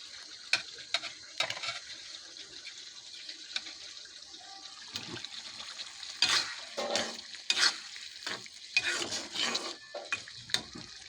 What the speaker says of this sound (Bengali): এখন টমেটোগুলো দিয়ে দিব।